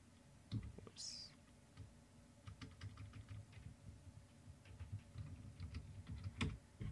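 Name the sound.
typing a command on a computer keyboard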